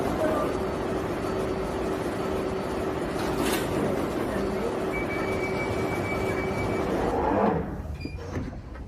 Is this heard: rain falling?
no